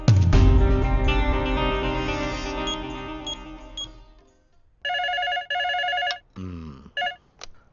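An office telephone rings in several bursts: a bright bell-like ring that decays, then repeated electronic tones with short gaps, loud and close, with no talking.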